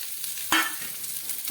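Diced potatoes for a dry potato bhaji are dropped into a hot pan and stirred, producing a sudden thud and a burst of sizzling, then a softer steady frying hiss with light scraping.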